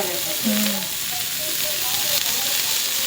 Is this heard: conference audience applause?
no